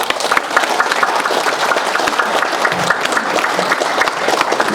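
Audience at a Liberal Union branch founding meeting in Ansan claps steadily throughout, a dense, even wash of many hands sustained at close range with no talk over it.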